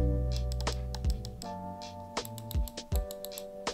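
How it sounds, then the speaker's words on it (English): Quick, sharp clicks come in small clusters as the buttons of a Lofree Touch PBT mouse are pressed repeatedly close by, with short pauses between. "They are still clicky mouse sounds"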